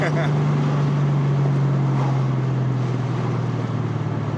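Infiniti Q45 engine droning steadily from inside the car while driving, a loud even hum with someone talking over it.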